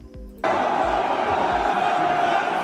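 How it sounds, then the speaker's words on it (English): Loud, dense crowd roar at a UFC fight event, erupting suddenly and holding steady as a sustained wall of cheering and shouting. "listen to the crowd, bro. Oh, that's fight atmosphere right there."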